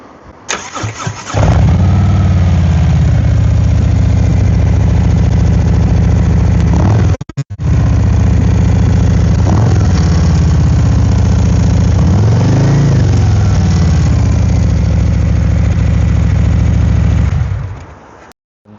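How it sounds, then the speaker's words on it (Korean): A Harley-Davidson touring motorcycle with an aftermarket Hi-Low muffler idles steadily with a loud, deep exhaust, briefly cutting out midway before rumbling on, with a few throttle blips raising the pitch. "하이로우 머플러가 장착이 된 차량입니다."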